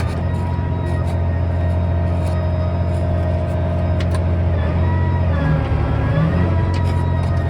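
A John Deere 8300 tractor runs in 9th gear with a loud, steady, close engine drone and drivetrain hum, a slightly rough tone, and a few brief whines and clunks from the transmission.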